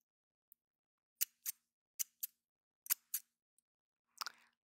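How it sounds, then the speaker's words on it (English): Scissors snip close to the ears in a pretend haircut, six crisp, separate snips in pairs followed by a short rustling crunch, all soft and quiet with no talking. "let's trim a bit of your hair."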